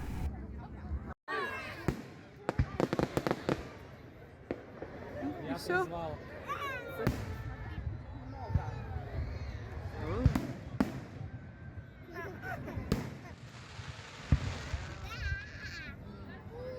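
Distant Canada Day fireworks pop and crackle in scattered bursts while a crowd chatters and people talk nearby.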